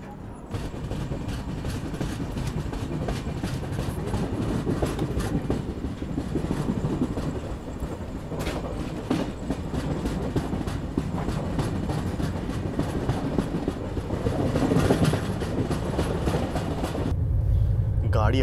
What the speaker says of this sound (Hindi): गाड़ी अपनी 130 की रफ्तार में भागना शुरू कर चुकी है